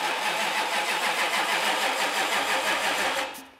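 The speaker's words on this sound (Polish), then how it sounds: "Rzęzi, rzęzi i nie chce zaskoczyć." A Lexus engine cranks over and over without catching, a steady, close, rhythmic churning of the starter that runs for about three seconds and then trails off, with no one speaking.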